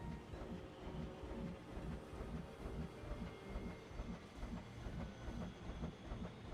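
A train in the Planet Coaster theme-park game rolls past at a steady pace, wheels clicking in an even rhythmic clatter over a low rumble, fairly faint and continuous.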